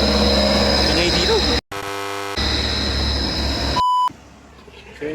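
A rebuilt motorcycle engine fitted with a new block and touring setup runs on test, a loud steady drone with abrupt cuts and a brief beeping tone near the end.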